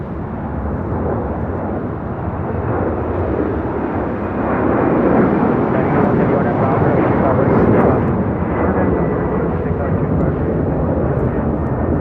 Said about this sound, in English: This is Latam Airlines 2479 taking off to Lima on a 767-300ER.